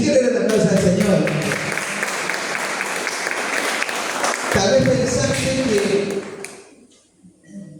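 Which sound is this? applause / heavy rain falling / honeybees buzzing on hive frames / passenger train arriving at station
applause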